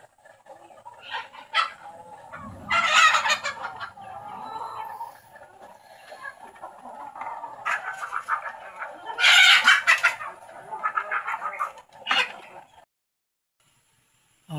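Pet chickens in a backyard lot cluck in irregular bursts while a rooster crows loudly a couple of times, the calls near and clear with quiet gaps between, and no talking.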